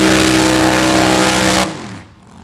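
A nitro funny car roars down a drag strip at Mo-Kan Dragway in a loud, sustained engine blast that cuts off abruptly near the end and leaves a fading rumble.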